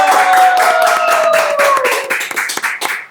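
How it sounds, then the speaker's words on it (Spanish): Brief burst of hand clapping from a small group at the opening of a Spanish-language podcast on workplace safety and metrics, dense at first and thinning out toward the end, with no talk. "Un aplauso, muchachos"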